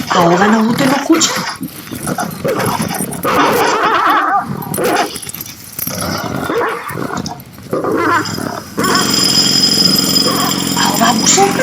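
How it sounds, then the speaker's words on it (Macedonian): A power drill whirs in steadily over the final few seconds, coming right after a stretch of deep, angry dog growling and snarling. "А оваа бушалка?"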